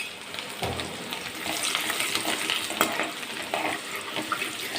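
Curry leaves and chopped garlic hit hot oil with turmeric and asafoetida and are stirred, making a crackling sizzle broken by repeated scraping strokes of a spoon against the pan, close and fairly loud, with no talking.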